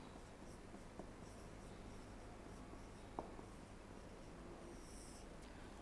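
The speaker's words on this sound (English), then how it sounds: "Example of oxidizing agent I'm writing." Chalk or marker writing on a board during an organic chemistry lecture makes a faint, quiet scratching with a couple of soft taps, heard alone.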